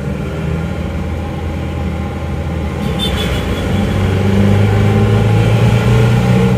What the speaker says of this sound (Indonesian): Nah ini semakin digas semakin kencang